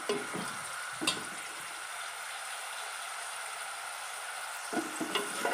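Finely chopped onion frying in hot oil with mustard seeds, fenugreek and cumin, a steady close sizzle broken by brief stirring scrapes near the start and end.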